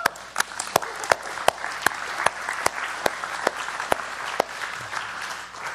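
Steady clapping from a church congregation during a sermon, with sharp individual claps standing out above the wash of applause, fairly close and continuous.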